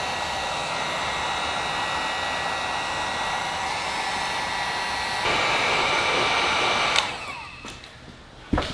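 A heat gun blows steadily on painted metal at the back of a 1964 Firebird, a continuous loud airy roar that rises in pitch partway through, then cuts off, followed by brief scraping clatter.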